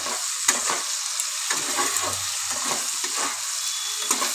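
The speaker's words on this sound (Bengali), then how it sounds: "এবার ভালো করে কষাবো আলুগুলো।" Potatoes with turmeric fry in a pan, a steady close sizzle punctuated by repeated rhythmic scraping strokes of a spatula as they are stirred.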